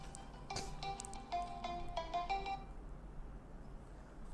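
A mobile phone ringtone plays a short melodic pattern of bright tones over a quiet room during an accounting lesson, then it cuts off and the room goes silent.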